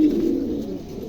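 Pigeon cooing up close, a steady low throaty coo repeated through the short moment, loud and clear with no talk over it.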